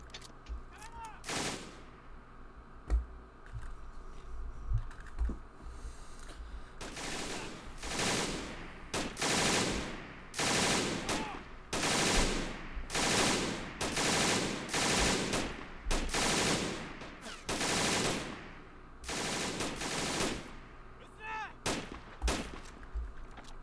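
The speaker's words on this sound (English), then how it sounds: "Looks like the MG shooting at some guy." Machine-gun fire in a World War II battle in Men of War: Assault Squad 2 with the Army Men mod, rattling out in repeated bursts of rapid shots separated by short pauses over more than twenty seconds, moderately loud and at a middle distance.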